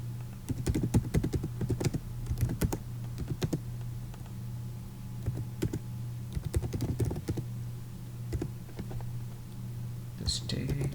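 Keys clatter on a computer keyboard in uneven bursts while an address is entered into a MAC Management System app, with quick clusters of close, crisp taps separated by short pauses.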